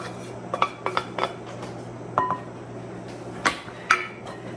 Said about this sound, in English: So I'm gonna start with the onions and peppers and celery.